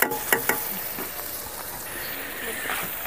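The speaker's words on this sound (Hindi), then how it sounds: "मछली डाल के बढ़िया से भूंजेंगे।" Dhawai fish drops into hot masala in a pan and sizzles, with a few sharp clinks at the start followed by a steady hiss of frying.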